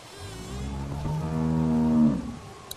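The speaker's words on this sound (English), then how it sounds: "Cow is definitely mooing" A cow in a barn stall in The Walking Dead game gives one long, loud, close moo that rises and swells for about two seconds before cutting off, with no talk.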